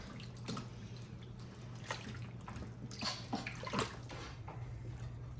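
Chicken pieces soaked in vinegar water are rinsed again in water, giving soft intermittent splashes and drips over a low steady background hum, fairly quiet and without speech.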